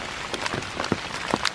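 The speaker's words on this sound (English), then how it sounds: "There's a misty rain. It is pouring down rain now." Raindrops patter and tap on nearby surfaces during a heavy rain in Iroquois Park on a foggy November morning, a short burst of scattered close drips over a soft wash.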